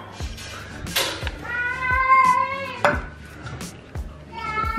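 A cat meows a few times, drawn-out and close, in a home kitchen between clinks of dishes and sharp tapping sounds.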